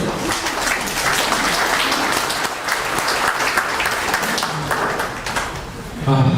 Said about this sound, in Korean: 모두 큰 박수로 환영해 주십시오.